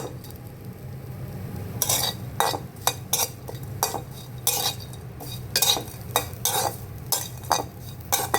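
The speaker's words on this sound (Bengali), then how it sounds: "শুটকিটাকে একবারে ভালোভাবে ভেজে নেব এটা কিন্তু তেল ছাড়া ভাজতেছি" Dried fish dry-frying in a pan without oil is stirred with a utensil, producing repeated sharp scraping clinks against the metal in an irregular rhythm over a faint background sizzle.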